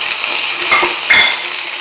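Shallots going into a hot pan of sautéing okra for a curried mustard okra stew, giving a steady loud sizzle with a couple of brief clinks of utensil against the pan.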